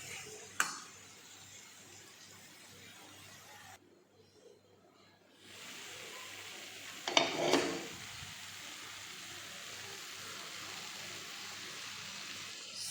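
Karaikudi chicken pepper chukka sizzles and fries in a pan, a steady low crackle with a brief scrape of stirring in the middle and a sharp knock early on.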